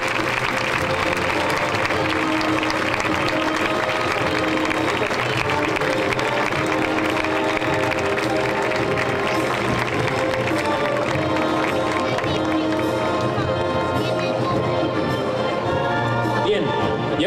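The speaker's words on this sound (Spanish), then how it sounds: "Acompañémosle con un fuerte aplauso" Sustained applause from a large audience at a concert of Spanish festival band music, dense and steady throughout, with faint voices and cheering mixed into the crowd noise.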